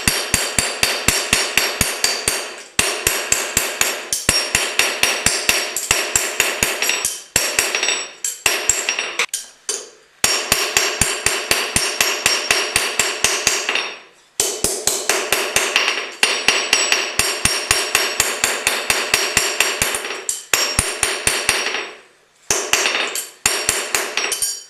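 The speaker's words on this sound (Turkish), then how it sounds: "Makaslarımızı taşlama işlemi yapmak için birer birer hepsini de doğrultuyoruz." Metal shears are hammered straight before grinding, with rapid, ringing metallic blows in long rhythmic runs separated by short pauses, close and loud with no talking.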